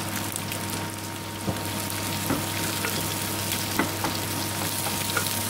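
Onions for chana masala frying in a pan with a steady low sizzle, a constant hum underneath and a few light clicks of stirring.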